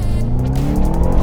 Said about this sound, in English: today we've got a 1999 Subaru Impreza turbo van